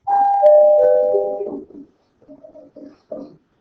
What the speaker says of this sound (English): I don't know what's going on with the bell. I don't know why it's going off so much.